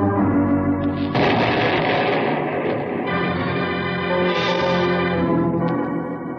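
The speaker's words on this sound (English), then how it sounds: "The night sky is torn with the sound and flames of the explosion." Stored dynamite blowing up a machine shed full of machinery at night, in a radio western: a loud, sustained roaring blast that rumbles on for several seconds with no talking.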